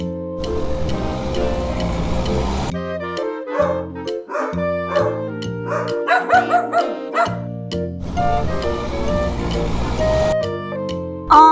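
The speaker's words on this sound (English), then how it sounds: "I will help the mother's dog to find out the puppy" A dog barks several times amid a busy children's music track, with yips and bow-wow sounds heard among the notes.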